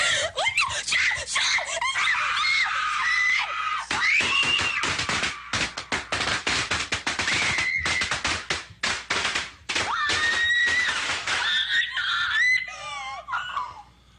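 Several people scream and shriek in panic, high-pitched cries overlapping with bursts of nervous laughter and some tapping, fairly loud and close.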